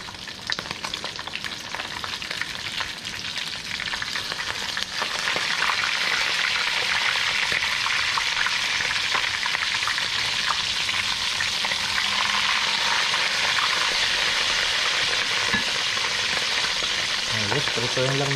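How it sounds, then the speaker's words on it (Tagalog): Fish sizzling hard in a pan of hot oil outdoors after a catch, a steady crackling fry that thickens and grows louder partway through and continues unbroken to the end. "Nagpiprito pa naman tayo dito."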